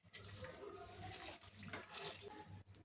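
Soaked rice tipped into a pot for paneer biryani, giving a steady wet pouring and rustling hiss with a low hum beneath, continuous for about three seconds at moderate, close level.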